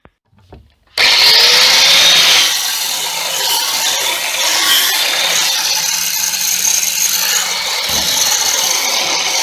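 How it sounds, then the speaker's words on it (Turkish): A loud, continuous grinding whir of a power sander working across a wooden board, starting abruptly after a brief quiet moment and holding steady throughout. "Zımparalayacağız bunu."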